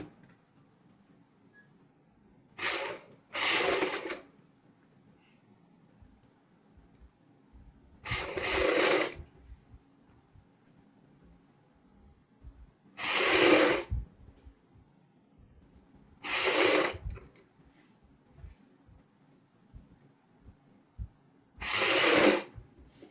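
A sewing machine stitches a collar on a child's fancy dress in six separate short runs, each a loud whirring burst of a second or so, separated by quiet pauses with soft handling noise.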